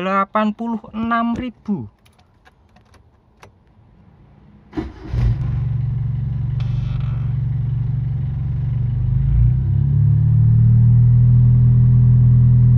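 Brief speech and a few clicks give way to a Timor car's engine, at 186,000 km, starting up and running steadily, its low drone swelling louder toward the end.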